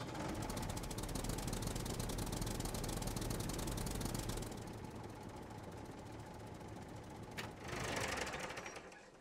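A tractor engine in the survival game SCUM runs steadily with a rough, rattling idle, fairly close and constant, shifting slightly in tone partway through with a brief clunk near the end.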